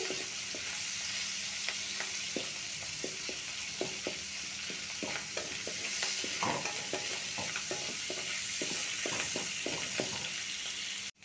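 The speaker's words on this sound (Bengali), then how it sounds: "তার জন্য আমি চিংড়িটাকে ভেজে নিচ্ছি" Steady frying sizzle in a pan with repeated scraping and clinking as the prawns are stirred, close and continuous with no voices.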